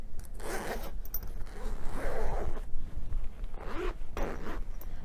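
A zipper on a cosmetic bag for shampoo, conditioner and cosmetics is pulled open in several quick rasping strokes with short pauses, close and clear.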